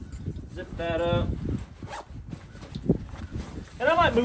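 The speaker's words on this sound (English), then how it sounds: "Zip that up." A dry bag being zipped up inside a backpack, two quick rasping zip pulls, one early and one at the end, close by amid rustling of gear and someone speaking.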